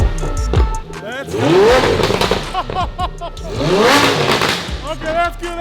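A Lamborghini with a newly fitted exhaust revs hard twice, each rise sweeping up into a loud, raspy roar before dropping back, close by, with a short voice at the start.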